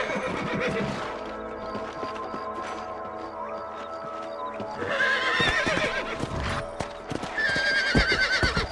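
Horses in the PC remaster of Red Dead Redemption whinny and neigh over clip-clopping hooves, with several loud calls rising near the end against steady in-game ambience.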